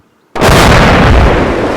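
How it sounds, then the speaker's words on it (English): A mine goes off in a small minefield beside a bridge in the wargame Combat Mission, a single sudden loud blast after a moment of near silence, followed by a sustained heavy rumble that does not fade. "there's a giant explosion in the small minefield on the opposite side of the bridge"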